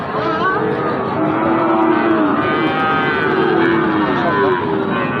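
Busy crowd noise with people talking at a cattle market in Bangladesh, under which cattle and young bulls low now and then with drawn-out moos, a loud continuous din throughout.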